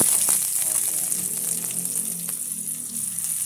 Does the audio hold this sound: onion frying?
yes